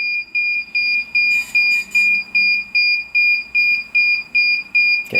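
A DJI Phantom 3 Professional remote controller emits a high electronic beep in a steady pulse, about twice per second, loud and close, with faint handling noise near the end.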